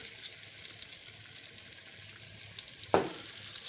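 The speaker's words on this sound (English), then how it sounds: "Stirring frequently to produce a brown roux." Flour cooking in butter for a brown roux, giving a steady soft sizzle with a gentle stirring scrape and one brief sharper clink near the end, no voices.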